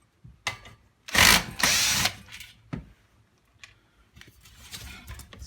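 A power driver backs a screw out of the end cap of a Dualit 3SLU three-slice toaster, with two loud close whirring bursts between quieter clicks and short mechanical rattles and no speech.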